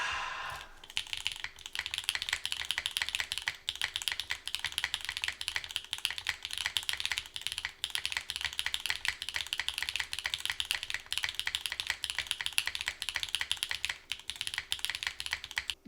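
Rapid, steady typing on a wooden mechanical keyboard prototype, with dense close clacks of the alpha keys in a continuous run and no voices.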